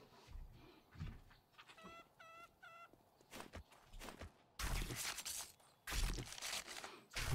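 Chicken clucks in the video game 7 Days to Die, a quick burst of short clucks near the start followed by footsteps and louder thumping game noises.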